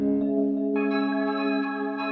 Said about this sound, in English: Some subtle reverb.